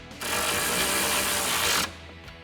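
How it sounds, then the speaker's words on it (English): Rapid ratcheting clicks from a 10mm socket wrench tightening mounting bolts on a 2019-2020 RAM 1500 nerf side step bar bracket, a steady close whirring burst lasting under two seconds. "Grab your 10mm socket and tighten them down."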